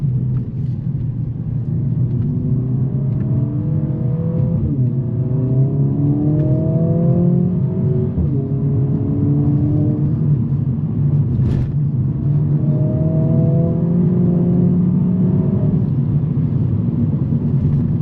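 A 2025 Mercedes-AMG CLA 45 S turbo engine revs hard in Sport Plus mode through several rising gear pulls, each climb breaking off at a shift, loud and close inside the cabin.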